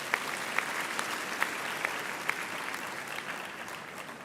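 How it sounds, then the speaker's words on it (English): A graduation ceremony audience at the University of the Free State claps steadily, a dense, even wash of applause with a few sharper claps standing out, sustained throughout. "give your family, your friends, your supervisors, your lecturers a great hand of applause"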